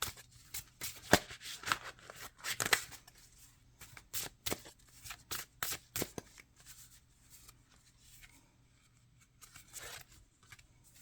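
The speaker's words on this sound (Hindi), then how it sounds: "एक कार्ड और निकालते हैं।" Tarot cards shuffled and drawn: bursts of quick riffling flutters and soft slaps, close and fairly quiet, with brief pauses between handfuls.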